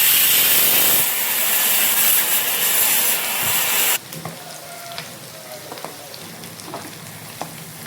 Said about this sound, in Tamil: நம்ம பொரிக்கணும். இது கொஞ்சம் வெடிக்கும்,